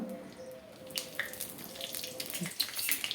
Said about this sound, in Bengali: ফোড়নটা আমি 1 সেকেন্ড ভালো করে ভেজে নেব